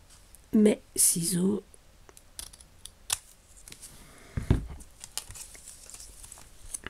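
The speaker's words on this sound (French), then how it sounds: "je vais prendre mes ciseaux" Scissors snip through paper while cutting out a scrapbook medal embellishment, a couple of close, crisp cuts followed by scattered light handling clicks and rustles.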